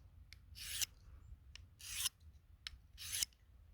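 A knife is drawn across a sharpening stone in three slow, even passes, each a soft, close rasping scrape separated by quiet pauses.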